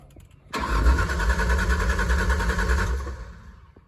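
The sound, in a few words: Ford Ranger engine cranking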